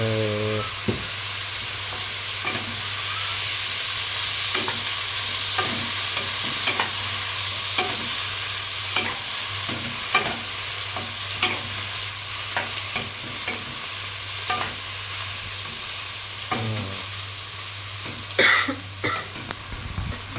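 Zucchini and king oyster mushrooms stir-frying in a pan with a little water, a low steady sizzle under repeated spatula scrapes and taps at an irregular pace, with a cough and throat clearing near the start.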